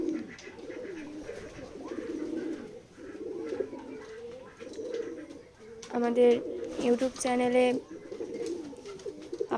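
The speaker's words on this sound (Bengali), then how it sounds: "আমাদের কবুতরগুলো আরও বাচ্চা দিচ্ছে" Pigeons kept at a village farm in Beteekhola, Keshabpur, Jessore, coo continuously in low rolling calls, with a louder nearby burst of cooing partway through, while someone speaks over them.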